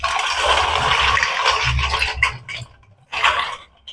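Water is poured over clay lamps to soak them. It splashes and gurgles close up in a continuous gush, then comes in two short bursts after a brief pause.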